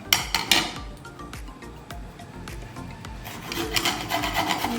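Fresh ginger rubbed against a small handheld grater, giving a steady run of close scraping strokes with a few sharper taps at the start and a busier burst of grating near the end.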